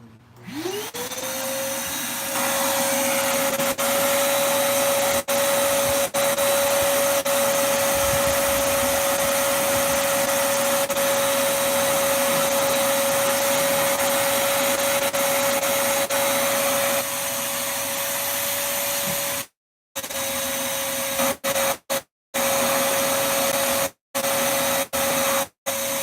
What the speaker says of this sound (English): we're gonna hit it with the vacuum one more time